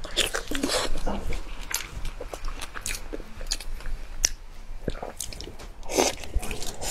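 Biting and chewing vegetable sausage during a Chinese spicy-food mukbang, close wet crunches and squishy mastication noises in an irregular rhythm, with quiet talk mixed in.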